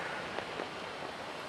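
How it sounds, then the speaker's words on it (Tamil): Heavy rain pours over Chennai during a thunderstorm as a steady, dense hiss of drops on surfaces, loud and continuous, with no voices over it. "சென்னையில் பெரும்பாலான பகுதிகளில் இடி மின்னலுடன் ஒரு கனமழை என்பது தற்பொழுது வெளுத்து வாங்கி வருகின்றது"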